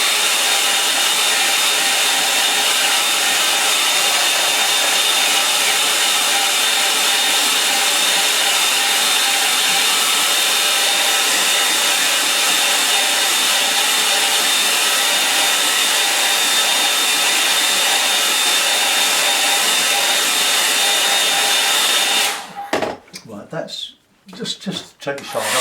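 A hair dryer blows steadily and loudly at close range for about 22 seconds, drying paint on a painting of a flooded Medway in Kent, then cuts out into brief handling noises.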